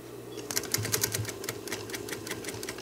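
A sewing machine stitches a throw pillow with a zipper, a close, rapid mechanical chatter in short uneven bursts that start and stop over a low motor hum, with no talking.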